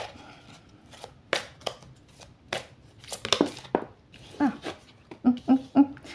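A tarot or oracle deck is shuffled during a three-card reading, giving a run of soft papery flicks and riffles that build into several sharper close bursts near the end, with no talking.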